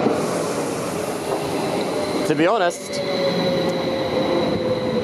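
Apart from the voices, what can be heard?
Stadler passenger train running in Luxembourg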